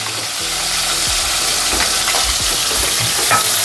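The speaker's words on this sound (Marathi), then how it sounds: "लसूण टाकते. लगेच टॅमॅटो पण टाकून देऊ." Garlic and tomato dropped into a hot pan of oil, cooking for a prawn and brinjal curry, give a loud, steady broadband sizzle with a few stirring clinks and scrapes, no voices.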